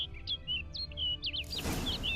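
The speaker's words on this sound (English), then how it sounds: "Looks like the bird's leading me somewhere." Bird chirps from The Witcher 3: Blood and Wine, a quick run of bright, high tweets repeating through the clip, with a rushing wash of ambient noise rising in the second half.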